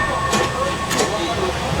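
Inside a non-air-conditioned carriage of an Indian sleeper train fitted with fans, a steady loud rumble and hiss build as the train pulls away, with faint clicks and a hint of voices beneath.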